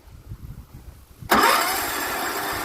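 A Kohler Command small engine with a past short fault cranks after a quiet stretch of low rumbling, then catches and runs at a loud, steady, high-revving drone that carries through to the end.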